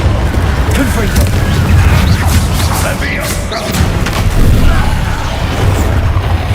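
Blasts of the Confringo spell in Hogwarts Legacy gameplay, heavy booming thuds and bursts rolling continuously under game noise, with a voice speaking over them.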